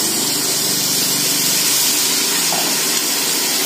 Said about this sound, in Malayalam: ഞാൻ ഇതിലെ ഒരു അര ഗ്ലാസ് വെള്ളമാണ് ഞാൻ ഇതിലേക്ക് ഒഴിച്ചു കൊടുക്കുന്നത്